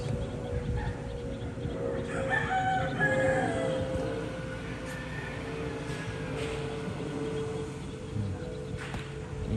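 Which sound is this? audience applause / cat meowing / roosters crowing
roosters crowing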